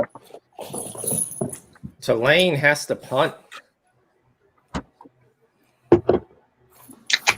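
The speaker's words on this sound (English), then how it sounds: "That's my dog." A pet dog whimpers and whines in a room, with a wavering, drawn-out cry amid people chatting on a casual talk show.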